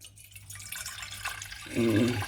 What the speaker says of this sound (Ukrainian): Зараз я зіллю воду ще такий момент, коли зливається вода